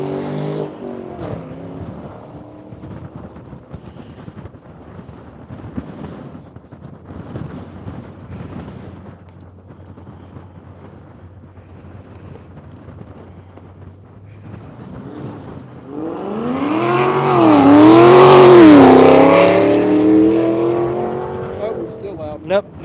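A Bridgestone Potenza Race Acura race car sweeps past on the track, rising to a loud roaring pass with shifting engine pitch under gusty wind noise and scattered voices.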